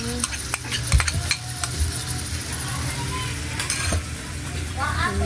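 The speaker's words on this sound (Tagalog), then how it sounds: "ayan at yung sibuyas. Madali ra to maluto mga idol. Tagisa lang." Onions stirred and sautéing in a pan for buttered shrimp with corn, with a loud, close sizzle and bursts of spatula scraping throughout.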